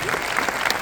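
Concert audience claps in a short, dense burst of applause, steady and fairly loud, with faint voices mixed in.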